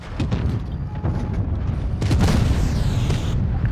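A heavy tank cannon blast booms out in World of Tanks Blitz, a deep rumbling report that rolls on for a few seconds with no talking.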